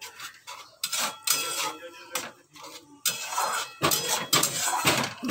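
Spice paste for a Bengali golda chingri malaikari (prawn curry) being stirred in a pan, with repeated clinks and scrapes of a utensil against metal coming in bursts, close and fairly loud, with pauses between.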